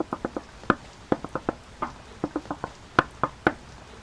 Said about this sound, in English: and I do the knock